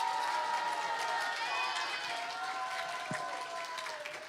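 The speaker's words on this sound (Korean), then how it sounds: "여러분 함께 손뼉 치면서 서로를 환영하겠습니다" A church congregation claps hands together in welcome during a Sunday afternoon youth worship service, a steady, dense patter of many hands held at an even level, with faint tonal sounds running through it, tapering slightly toward the end.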